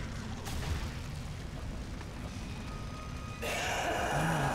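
A grenade bursts in the zombie shooter Zombie Army 2, a sudden rush of heavy rumbling noise that swells in and holds loud over a steady game soundscape.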